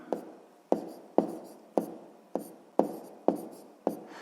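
A pen writing a math exercise by hand on paper, a series of eight evenly spaced short scratchy strokes, close and faint, with no talk.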